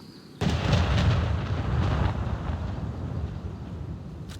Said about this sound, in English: Oh, wow, this is quite the storm.